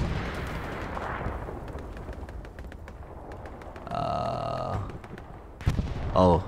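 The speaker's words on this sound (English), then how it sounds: "the artillery is working right now" Distant artillery in Hell Let Loose booms and rumbles as a long, rolling barrage under the game's ambience, with a couple of sharper blasts and bursts toward the end.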